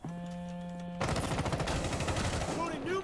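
Rapid gunfire in a first-person shooter game: after a second of steady tone, a loud continuous burst of shots rattles on, close and dense, with a voice faintly beneath.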